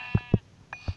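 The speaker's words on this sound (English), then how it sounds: "Oh, I found another sheep." Several short sheep bleats from the video game Minecraft, four quick, close calls in about a second with brief gaps between them.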